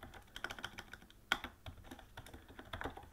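A few light, scattered keystrokes on a computer keyboard with one sharper key hit, close and quiet, while a parameter is typed in Dynamo; no speech.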